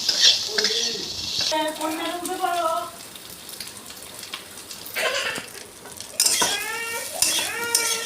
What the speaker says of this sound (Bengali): লাল করে ভাজা হয়ে গেছে আমার আলুটা।